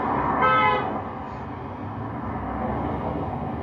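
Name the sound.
horn honk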